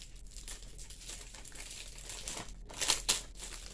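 Packaging crinkles and crackles faintly as it is opened during an unboxing, with two sharper rustling bursts near the end of an otherwise quiet stretch.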